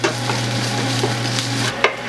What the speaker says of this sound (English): we're going to add our ginger garlic paste and cook it until it gets dark brown